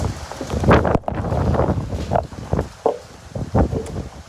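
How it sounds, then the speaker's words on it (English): Outdoor wind gusting against the microphone: a continuous rough roar with uneven surges and brief dips, loud and close, with no voices. "the wind's just picked up and trying to blow everything away here"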